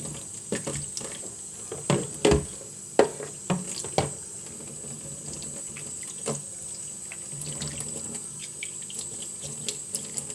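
Tap water runs into a sink while chicken gizzards are washed by hand. A soft, steady trickle sits under a close series of splashes and wet knocks that cluster early and then thin out, with no voices.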